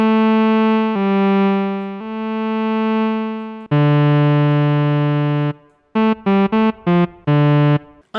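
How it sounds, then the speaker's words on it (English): Sustained notes from a Cherry Audio Solovox lead synthesizer plugin, first with soft swelling attacks and releases, then a series of short, clipped staccato notes, loud with no other sound. "You can shape the sound with an envelope with attack and release."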